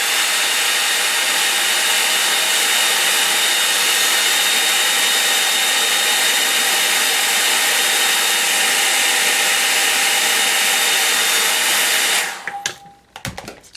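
A hair dryer blows steadily on a watercolour painting, a loud, even whir that runs unbroken for about twelve seconds before cutting off abruptly, with no talking.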